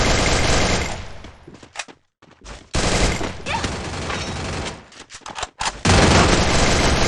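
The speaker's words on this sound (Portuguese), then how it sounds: "Um tiro." Dense bursts of rapid gunfire in the video game Free Fire, loud and continuous, broken by a couple of brief pauses before firing resumes.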